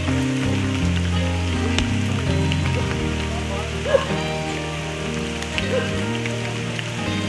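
Rain falls steadily on a humid, wet mountain trail in Taiwan, a dense continuous patter with occasional close drips.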